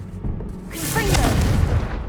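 In the Hogwarts Legacy video game, a Confringo fire spell lands in a haunted Hogsmeade shop with a sudden booming blast, a deep rumble and crackling tail lasting over a second, close and loud.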